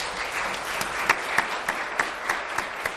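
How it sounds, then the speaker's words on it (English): Audience applause in a hall at a Hispanic Heritage Month event, a steady wash of many hands clapping with a few louder individual claps popping out at regular intervals, no voices over it. "please join me in giving a round of applause to Marvin Azari."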